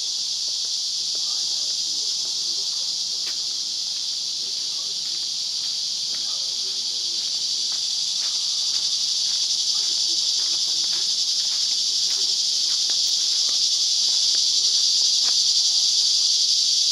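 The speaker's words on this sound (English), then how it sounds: "Cicadas, if I understand right," Cicadas hold a loud, steady high-pitched buzzing drone that builds slightly louder toward the end, with a few faint clicks beneath it.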